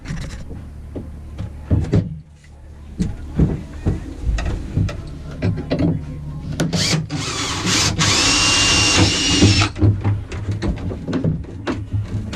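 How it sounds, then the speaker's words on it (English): A power drill bolts a Nature's Head composting toilet to the floor aboard a sailboat, with repeated close, loud bursts of whirring and clunks from handling the hardware, and a longer sustained high drilling run late in the sequence. "So I'm going to bolt it down."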